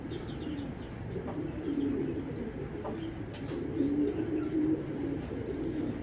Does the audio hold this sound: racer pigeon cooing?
yes